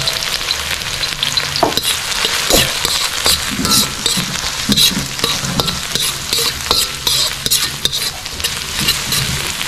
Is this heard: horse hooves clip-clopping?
no